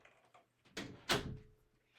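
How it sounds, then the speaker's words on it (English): A door in a home swings and shuts with a rush of movement and a firm, fairly close thud, followed by a quiet room. "I'm just going to shut the door so that he knows I'm recording"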